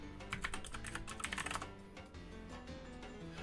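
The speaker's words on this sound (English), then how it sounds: "with blue switches. I like the switches to be loud. Sound clickety" Clicky typing on a Keychron K2 mechanical keyboard fitted with loud blue switches, a close, steady rapid patter of keystrokes at a workstation with no talking.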